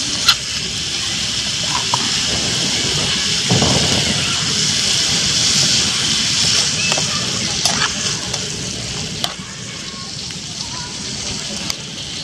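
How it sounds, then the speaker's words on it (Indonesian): Beef bistik stirred while it fries in a pan, a steady loud sizzle with sloshing liquid and faint scrapes and clinks of the stirring utensil, with a voice talking at times. "Kita aduk dulu."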